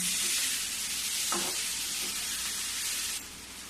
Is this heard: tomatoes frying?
yes